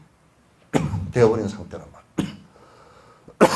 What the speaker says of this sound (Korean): 그래서 나 기침이 나니까 물에 의지해야 돼.